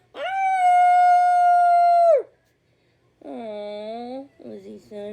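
A human voice imitates a lonely puppy howling with all its might: one long, loud, sustained howl, a pause, then a wavering howl and a few shorter yips.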